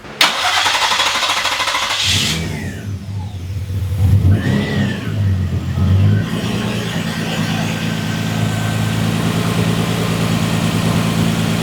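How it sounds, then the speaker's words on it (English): A Nissan G35 drift car with a freshly swapped engine cranks and starts, then settles into a rough steady idle with a few revs, loud and close in a garage setting. "There your car runs."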